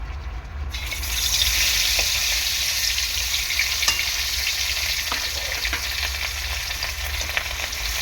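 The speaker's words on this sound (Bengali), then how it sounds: "আর আরেকদিকে মাছ ভাজাটা বসিয়ে দেবো কড়াইতে তেল দিয়ে দিয়েছি" Snakehead fish frying in hot oil in a wok, giving a loud, steady, close sizzle with scattered crackles and pops throughout and no talking.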